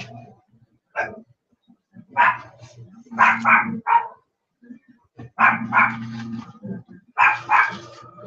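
Several dogs bark indoors in loud, uneven bursts, reacting to a noise outside, with short pauses between volleys.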